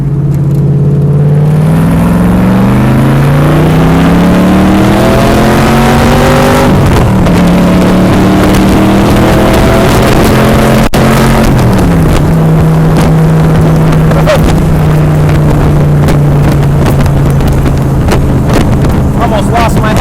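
A 1964 Cobra 289 USRRC/FIA replica's V8 engine winds up hard under full throttle in second gear, its loud rising roar climbing through the revs with a brief dip, then a steady high drone amid heavy wind buffeting.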